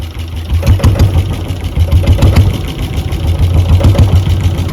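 A fishing boat engine runs on the water in the Sundarbans with a loud, steady, low chugging throb that continues unbroken and is close by.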